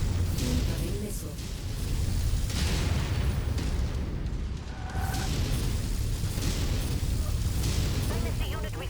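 Missile explosions in MechWarrior 5 form a continuous heavy rumble of blasts and booms, with a voice speaking over the din.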